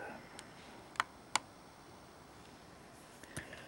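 A computer mouse clicks while the cursor rests on a voicemail item, a few sharp isolated ticks over quiet room tone.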